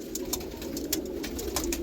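A pair of pigeons, one male and one female, coo in low, rolling murmurs, with light rustles and taps close by and no voices.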